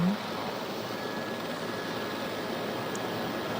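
An aircraft rolls down a runway after landing, its tires scrubbing and burning under strong landing gear, giving a steady broadband roar with no clear changes across the whole stretch.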